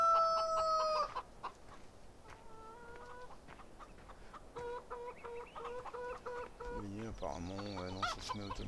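Chickens cluck in a string of short, clipped calls inside the Farming Simulator 2013 video game, with a rooster crowing near the start and again in rising, wavering calls toward the end. The calls are fairly loud and close.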